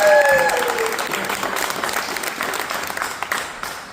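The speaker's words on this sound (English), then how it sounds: "Give her a round of applause." An audience applauds in a church setting, with dense clapping loudest at the start and slowly thinning over a few seconds, over a brief fading tone.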